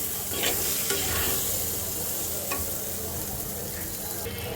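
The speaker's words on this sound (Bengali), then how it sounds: "তো চলো মশলাটাকে এখন সুন্দর করে ভেজে নেই।" A spice masala mixed with coriander powder fries together with vegetables in a pan, giving a steady, low sizzle with a few soft scrapes as it is stirred. No one speaks.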